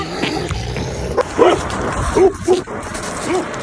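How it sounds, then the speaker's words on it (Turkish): Several dogs gather outdoors, yipping and whimpering in short bursts with occasional barks. They are fairly near and come in a few separate outbursts over a low background. "Bak köpekler de geliyor."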